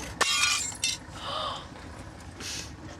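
A glass shop display piece smashes with a sharp crash, followed by scattered tinkling shards and a second smaller break, loud and close with no talk.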